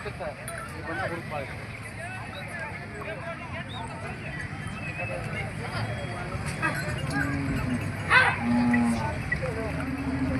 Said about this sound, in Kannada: ಭಾರಿ ಸೈಜ್ ಇರ್ತಕ್ಕಂಥ ಎತ್ತುಗಳನ್ನು ಬಂದವು ಒಳ್ಳೆ ಒಳ್ಳೆ ಜಾನುವಾರುಗಳು ಬಂದವು